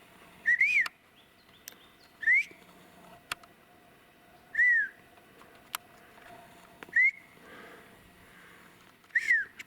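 Jays give five loud, clear rising-and-falling calls spaced a couple of seconds apart in quiet woodland, answering a whistle, with sharp snaps and clicks between them.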